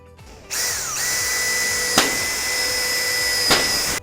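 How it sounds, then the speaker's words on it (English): Power drill boring holes for the handle on a steel shed roller door, a steady high whine that starts abruptly, runs for about three and a half seconds with a couple of sharp knocks, then stops, with no talk. "once we've got our holes drilled out"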